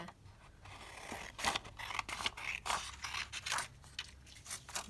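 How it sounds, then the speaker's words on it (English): Scissors snipping paper strips for altered jumbo paperclip crafts, a quiet close series of crisp cuts and rustles in irregular rhythm, with no voices. "just cutting a few strips so that I've got a whole bunch of different things to choose from"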